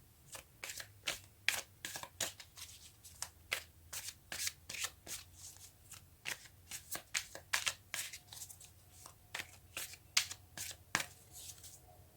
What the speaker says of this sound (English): So now let's get a few cards to see if we can get some more information.